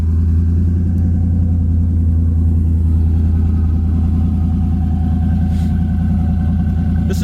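A 1989 IROC Camaro V8 with a 3-inch exhaust running front to back idles with a deep, steady burble, loud and close throughout, with no voices.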